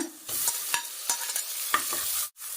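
Onions hit hot coconut oil for a mutton gravy, giving a bright, continuous sizzle punctuated by several sharp spatula scrapes and taps, close and clear with a brief break near the end.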